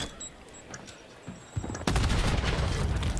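A grenade blast in a Call of Duty League match, a sudden loud burst near the end that rolls into sustained gunfire and noise after a quieter stretch of distant shots.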